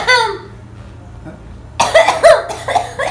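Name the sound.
child coughing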